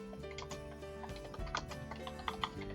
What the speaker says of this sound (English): I'm going to type in the job address